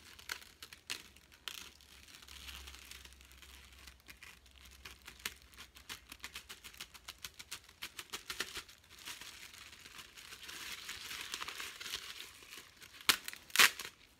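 The crinkly plastic wrapper of a cheap sanitary pad is handled close up, with steady rustling and crackling that rises and falls and has sharper tearing crinkles toward the end. No one speaks.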